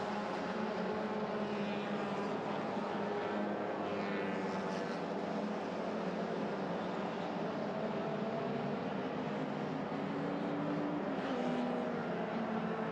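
Racing cars, a Honda Jazz and a Suzuki Swift among them, drone past in a circuit race, a continuous blended engine roar that stays fairly distant and steady with slight swells.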